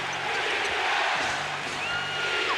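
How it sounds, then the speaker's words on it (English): A basketball arena crowd at an NBA Finals game between the Lakers and Pistons roars as fans stand and cheer, a dense, steady wash of noise with no break. "This crowd on its feet."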